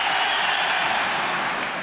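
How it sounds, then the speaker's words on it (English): A hurling crowd at the 2004 Cork v Limerick Munster semi-final breaks into loud, sustained applause and cheering as a substitute is introduced, a dense wash of clapping filling the stadium. "the response is, of course, from the crowd, because one Brian Corcoran is being introduced"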